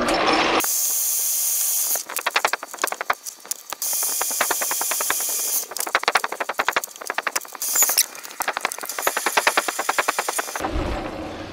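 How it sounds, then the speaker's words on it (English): A drill grinds into metal with a harsh, hissing whine, broken by rapid rattling bursts and chatter, running almost continuously up close, as a hole is center drilled, pilot drilled and tap drilled. "we're ready to center drill, then we'll pilot drill, and then run the tap drill in"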